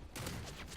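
A Desert Eagle pistol fires in the video game Modern Warfare 3, giving a loud, sharp burst that rings on through the short moment with no talking.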